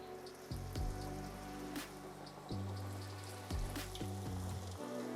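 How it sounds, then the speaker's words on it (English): Pork chops dropped into hot grease, giving a steady, close crackling sizzle that runs throughout, with low tonal hum beneath and no voices. "Go ahead and drop our pork chops in this hot grease."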